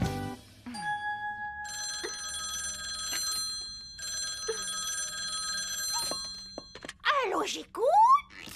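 A telephone rings with repeated electronic bell tones in a French-dubbed television episode, clear bursts separated by short pauses, with voices and a few knocks around it.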